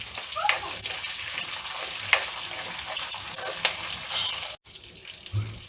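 Slit green chillies fry in a pan with a continuous crackling sizzle, broken by scraping stirs and a brief dropout, close and fairly loud.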